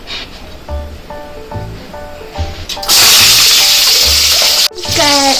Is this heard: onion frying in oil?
yes